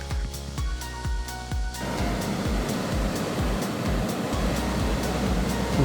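A steady, roaring rush of steam and boiling water from the Gunnuhver geothermal hot spring vent in Iceland, loud and continuous, with a rhythmic pulsing thud in the first seconds.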